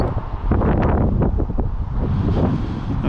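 Heavy headwind buffeting an outdoor microphone during an RC car speed run, producing a loud, continuous low rumble with gusty swells and no speech.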